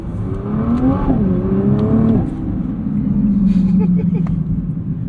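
A 2023 Nissan GT-R with a 565 hp engine accelerates through a couple of gears, heard from inside the cabin: a loud rising engine note drops briefly at each shift, then climbs again.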